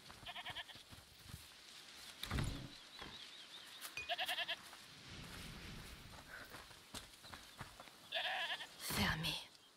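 Goat bleats in the video game A Plague Tale Requiem, several wavering calls repeated through the clip, loud and fairly near, with footsteps and game ambience underneath.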